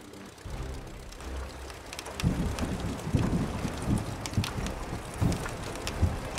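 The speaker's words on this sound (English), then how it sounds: "woken by the sound of heavy rain hammering the vessel" Heavy rain drums steadily against a boat's hull and deck with gusts of wind, sharp irregular impacts and broadband noise building after the first couple of seconds.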